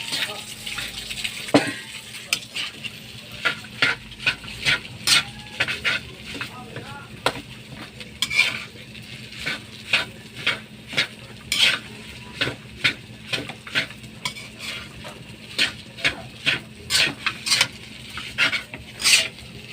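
Fried rice is stirred and fried in a pan, with a faint sizzle under repeated sharp scraping strokes of a spatula in an irregular rhythm, and some quiet talk.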